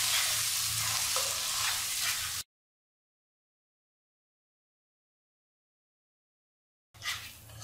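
Ginger, garlic, fried onion and tomato paste being stir-fried in a pan for an egg soybean curry, a close sizzle with scraping stirs, broken by a long silent gap before frying resumes.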